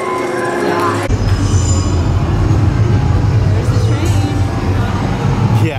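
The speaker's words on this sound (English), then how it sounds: "like you hear the train" A train at Universal Studios Orlando rumbles past with a loud, steady low roar and faint wheel squeal, close by, under the chatter of people nearby.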